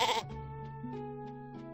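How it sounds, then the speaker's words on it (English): A sheep bleats once, a clear wavering farm-animal cry lasting over a second, close and alone with no talking. "Sheep, bleat."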